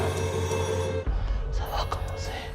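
A telephone rings steadily for about a second, a sustained electronic bell tone, then cuts off as voices and rustling take over.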